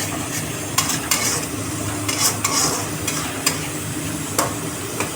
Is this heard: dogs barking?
no